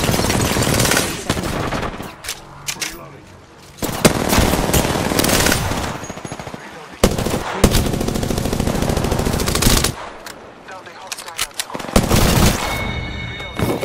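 Rapid automatic bursts from an R-99 submachine gun in Apex Legends, loud and close, firing in repeated sprays with short pauses and a few sharper impact hits between them.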